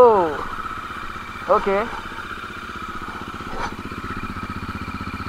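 A Bajaj Dominar motorcycle engine idles right after a cold start, following three months of sitting unused. It makes a close, steady, pulsing chug with a brief blip of revs, and a person speaks briefly over it.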